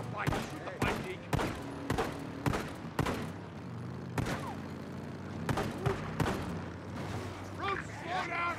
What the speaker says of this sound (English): I'm gonna shoot the bike.